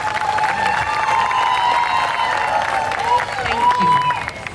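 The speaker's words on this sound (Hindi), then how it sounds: "तो एक बार जोरदार तालियां चाहूंगी नर्तन डांस क्लास के लिए।" Audience at an evening dance drama performance applauding a dance class, sustained clapping and some cheering under a tonal whistle-like line and voices.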